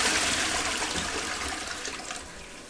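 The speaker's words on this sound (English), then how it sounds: "We just need to flush the toilet." A toilet flushes in the horror video game Infliction, a loud, steady rush of water that holds for nearly three seconds and tapers slightly toward the end, with no voices over it.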